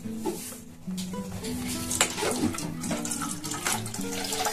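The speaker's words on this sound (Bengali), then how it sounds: "তো আমি এখানে ছেঁকে নেবো একটা ছাঁকনি দিয়ে বড়।" Chhena for sandesh is poured through a large sieve, and liquid whey splashes and trickles steadily into a vessel below, with light clinks of kitchen utensils and no talk.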